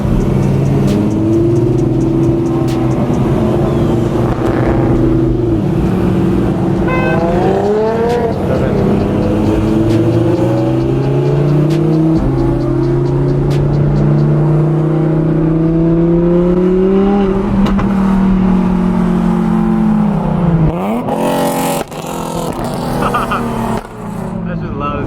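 Car engines rev hard and loud at a California car meet, a constant roar with rising and falling pitch sweeps as throttles are worked, close by, with people talking and shouting underneath.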